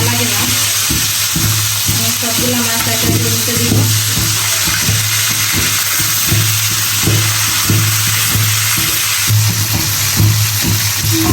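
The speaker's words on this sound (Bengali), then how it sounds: "মাছ দিয়ে দেবো ফ্রাই করার জন্য" Morma fish frying in hot oil in a home kitchen, a continuous dense sizzle with occasional clinks and stirring knocks, steady and close throughout with no talk.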